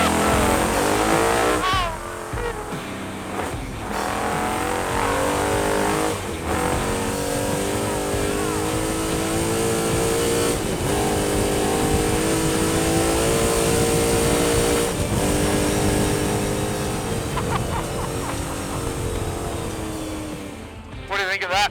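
An Aussie-spec trophy truck from Patriot Campers revving and driving off-road, a loud, continuous, rough engine roar with surging throttle and rattling bursts, with people talking over it.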